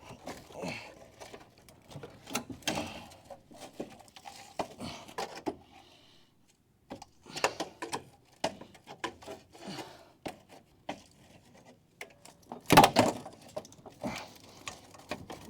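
Pop rivets are worked out of a Dodge Charger dashboard during a crew cab restoration: quiet, intermittent bursts of scraping, rasping and tapping are broken by brief pauses, with one sharp, louder knock near the end.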